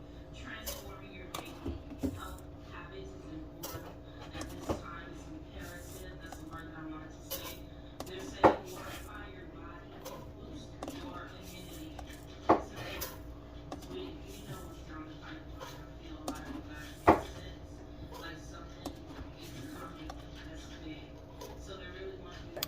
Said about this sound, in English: Let me see if I can find the right size pot